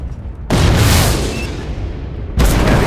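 Two heavy booms of gunfire and explosions from the drone combat game Shadow Strike, one blast with a long rumbling tail and a second hit right after, loud and close.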